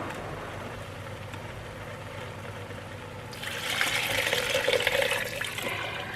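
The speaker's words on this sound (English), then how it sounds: "And then we have our 5 cups of water." Five cups of water pour into a Ninja Foodi pressure cooker pot with spicy pinto beans, Rotel and seasoning, a steady broadband splashing stream starting partway through and continuing near and fairly loud, with no talking.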